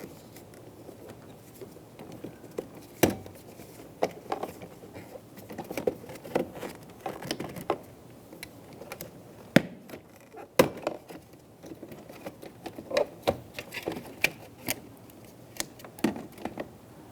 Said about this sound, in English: Using a plastic trim tool, we're going to remove the trim piece.